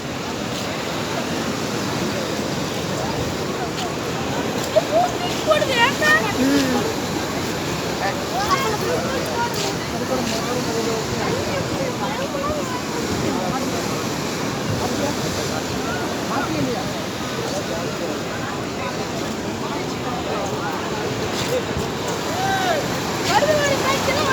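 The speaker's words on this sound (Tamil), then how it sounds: "அலை ஜாஸ்தியாகிட்டு இருக்கு" Sea waves building in strength, a continuous roar of surf washing near the shore with wind buffeting the microphone and people talking over it.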